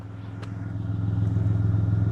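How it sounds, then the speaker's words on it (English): A Toyota Tacoma with an aero muffler idles and rumbles, its deep exhaust note throbbing in a steady pulse and growing a little louder, close by, with no talk. "I don't know if you guys can hear this exhaust."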